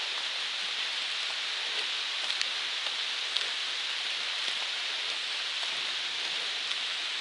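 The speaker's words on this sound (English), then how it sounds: "it's cooler and obviously raining now" Steady rain falls on a hiking trail along the Appalachian Trail, a dense, even hiss of drops with occasional sharper patters close by, continuous throughout with no talking.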